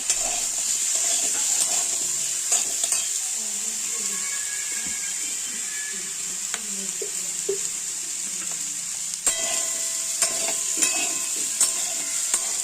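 Potato and eggplant pieces frying over high flame in oil tempered with nigella seeds, a steady, bright hiss that runs the whole time, with occasional clinks and soft stirring bumps. No speech.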